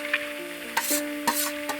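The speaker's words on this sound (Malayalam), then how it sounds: "ഇഞ്ചി വറക്കാനായിട്ട് ചീഞ്ചട്ടിയിലിടണം." Ginger frying in a pan for Onam puli inji, giving a steady sizzle with a few sharp scraping stir strokes of a spoon against the pan, close up and with no talking.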